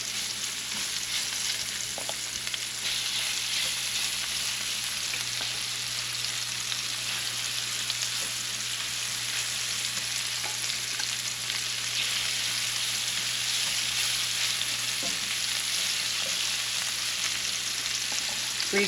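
Shrimp cook briefly in a hot pan, giving a constant close sizzle and crackle with faint stirring, steady throughout and free of speech, over a low steady hum.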